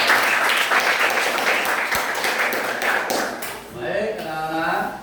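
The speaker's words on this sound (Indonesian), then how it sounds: "Oke, tepuk tangan dulu dulu" Schoolchildren clapping in a classroom, a lively burst of close applause that fades out, followed by a voice talking.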